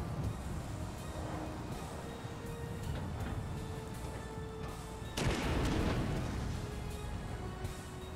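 An M3 Stuart tank fires its gun in a turn-based strategy game: a single sharp, loud blast cuts through a steady low engine rumble midway, then fades back into the droning background.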